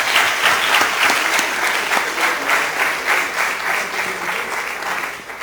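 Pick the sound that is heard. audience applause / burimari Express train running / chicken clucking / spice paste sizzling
audience applause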